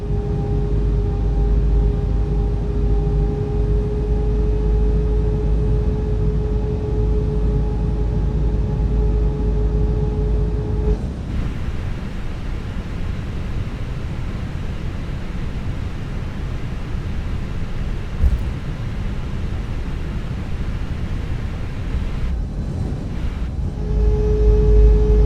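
Airliner in a flight simulator taxiing at Oslo Gardermoen, a steady engine hum with a constant tone for about eleven seconds, then a broader low rumble and hiss continuing at even loudness, with no talk.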